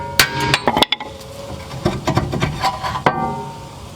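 A hammer strikes the rear brake rotor of a 2001-2007 Mercedes C-class, several sharp metallic blows spaced irregularly, close and loud, with ringing clinks between the hits.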